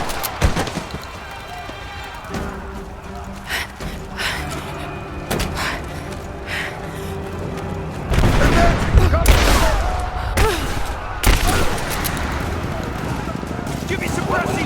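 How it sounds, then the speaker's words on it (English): Gunfire in Rise of the Tomb Raider during a firefight at the edge of a village: scattered shots and heavy impacts, with a louder stretch of blasts midway, under steady game ambience and voices. "We're under fire at the edge of the village."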